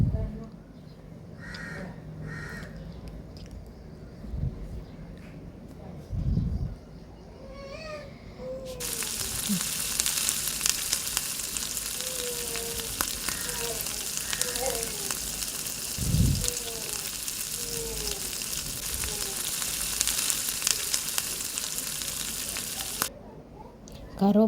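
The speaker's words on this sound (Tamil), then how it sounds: "தக்காளி போட்டு நல்லா வதக்குங்க." Tomatoes sauté in a pan for a home-style fish kulambu, giving a broad steady sizzle through the middle section, while crows caw loudly and repeatedly nearby throughout.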